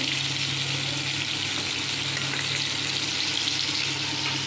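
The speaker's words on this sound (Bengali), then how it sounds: "পটল পোস্ত করবো বলে পটল পোস্ত দিয়েছি ভাজতে" Pointed gourd pieces, scored down the middle, fry in hot oil with a continuous, even sizzle close up, a steady bubbling hiss with no voices over it.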